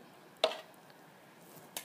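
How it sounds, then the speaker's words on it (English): Two quiet, sharp knocks of a knife chopping chicken on a cutting board, spaced more than a second apart in an otherwise still room. "Doesn't have to be perfect, just kind of chopping."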